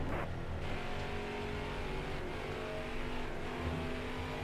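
A NASCAR race car engine in the video game NASCAR Heat 5 at WWT Raceway hums steadily, throttle held and varied slightly, with a continuous mechanical drone throughout.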